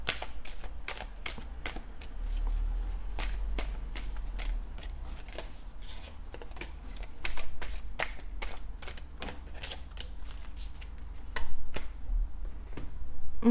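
Tarot cards being taken out and handled, a rapid series of crisp flicks, slaps and riffling clicks close by, uneven in rhythm, with a low background hum and no talking.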